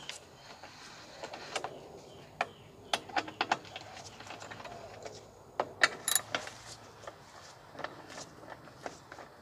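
Metal wrench working an 8mm bolt on a lawn mower near the carburetor, heard as a series of sharp clicks, ratchets and metallic clinks at close range, irregular and separated by quiet pauses, with no talking.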